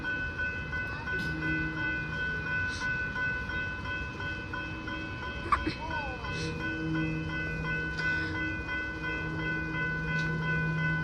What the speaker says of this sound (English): Wait, it's a velocity horn.